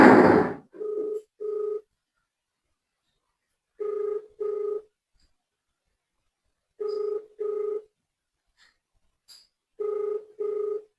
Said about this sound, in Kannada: ಬನ್ನಿ ಇನ್ನ ಹಚ್ಚೋಣ, ಫೋನ್ ರಿಸೀವ್ ಮಾಡ್ತಾರ ನೋಡೋಣ.